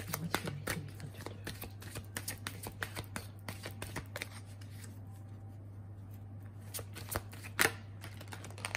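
Tarot cards being shuffled close up make a continuous dry riffling with crisp card flicks over a low steady hum.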